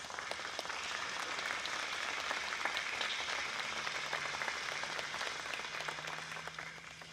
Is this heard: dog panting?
no